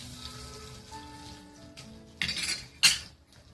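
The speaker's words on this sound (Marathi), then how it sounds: "जिरे तडतायत त्याच्यामध्ये. तेल गरम होतं." Cumin seeds dropped into hot oil for a tempering while making crisp sabudana vada, giving a low background sizzle and two short bursts of crackling and spattering near the end.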